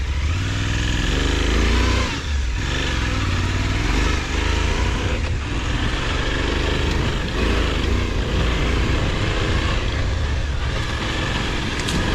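A Suzuki V-Strom motorcycle engine drones and revs steadily while riding off-road through thickets, ruts and rocky ground, loud and close throughout with shifting throttle.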